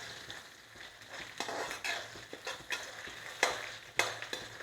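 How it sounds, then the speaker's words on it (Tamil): Onions go into a pan of dal frying until lightly golden for spinach rice, giving a steady sizzle broken by several sharp stirring scrapes and clinks of a utensil against the pan. "நல்ல இந்த பருப்பு ஐட்டம்லாம் லைட்டாக கோல்டன் கலரில் வந்த உடனே அடுத்தது நம்ம வெங்காயம் போட்டுடலாம்"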